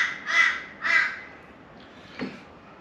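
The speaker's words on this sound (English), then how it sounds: "Noisy birds." Two loud harsh crow caws close together, then a fainter call and a softer caw further off, heard outdoors with no talking.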